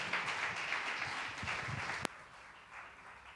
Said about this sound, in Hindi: जोरदार तालियों से अपने खादिम का स्वागत करें।